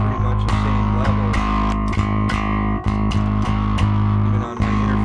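An electric guitar runs through the distortion channel of a Suncoast BC3XL pedalboard, giving a loud, thick, sustained crunch with repeated strummed chords and one brief dropout near the end.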